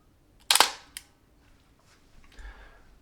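A Minolta SLR camera shutter fires at 1/30th of a second: one sharp, loud mechanical snap up close, then a softer click about half a second later, with quiet on either side.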